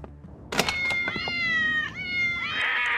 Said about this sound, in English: Getting rid of all them cats.